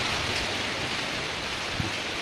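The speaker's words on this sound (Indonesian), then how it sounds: "Ini udah mulai hujan nih, ini rintik-rintik kalian bisa lihat." Light rain beginning to fall outdoors at a wall-plastering site, a steady soft hiss of fine drops with no talk.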